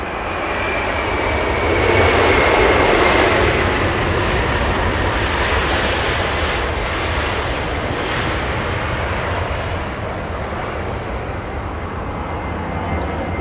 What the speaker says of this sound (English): Incredible sounding departure. This one flying to Vancouver.